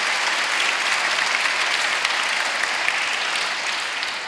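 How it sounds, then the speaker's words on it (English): Sustained audience applause at a fashion-designer conversation event, dense and steady with many hands clapping together, tapering slightly at the end. "If you can just give a round of applause."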